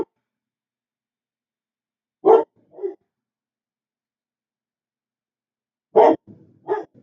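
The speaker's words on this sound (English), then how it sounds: "Sorry about the dogs." Dogs bark in two short pairs, a loud bark followed by a softer one around two seconds in and again near the end, with near silence between the bursts.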